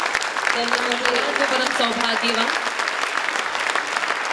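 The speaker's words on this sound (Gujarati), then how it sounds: "જોરદાર તાળીઓથી આપણે સૌ તેમના" An Ahmedabad audience at a public felicitation for theater and film artist P Kharsani breaks into loud, sustained applause while a speaker keeps talking over the clapping.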